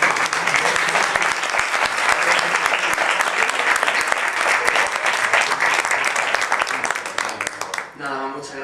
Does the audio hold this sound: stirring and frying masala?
no